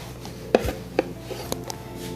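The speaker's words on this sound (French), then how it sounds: "On va les couper en moitié." A knife cuts blanched oranges in half on a board, giving a few sharp, close thumps and clicks spaced apart, moderately quiet.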